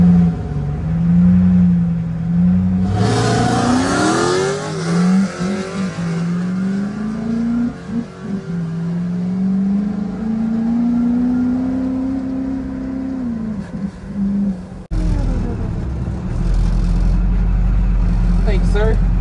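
A Duramax diesel-swapped vehicle's engine drones and revs, rising and falling in pitch as the transmission lever is shifted, loud and close, with a voice talking over parts of it.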